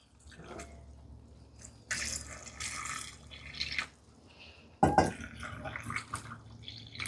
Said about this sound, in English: fill these jars right up just above the peas with really hot water, close to boiling as you can.